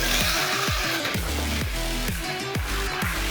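Mini 4WD toy car running a wall course, its small motor whining steadily close by, with a repeating series of sharp falling sweeps and rattles as it climbs, circles the wall and comes back down.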